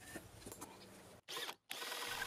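A power drill fitted with an auger bit and a tenon cutter bores into wood, a short whirring run broken by two brief pauses, close and moderately quiet.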